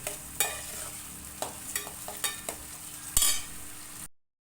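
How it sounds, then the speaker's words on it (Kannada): Tomato stir-fried in a pan for a sprouted green gram palya, a soft steady sizzle with repeated scraping strokes of a spatula, close by and with no talking. "ನಾನು ಟೊಮೊಟೊ ಹಣ್ಣು ಸೇರಿಸ್ತೀನಿ ಈ ಟೊಮೊಟೊ ಒಂದು ಸ್ವಲ್ಪ ಬೇಯಲಿ"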